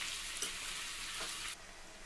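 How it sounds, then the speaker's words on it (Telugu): Carrot and beans crackle and hiss in an oiled pan as they are stirred for a Telugu beans fry. The loud, dense sizzle drops abruptly toward the end, and no one speaks. "నెక్స్ట్ బీనీస్ వేసేసుకోవాలి. మిక్స్ చేసేసుకోవాలి."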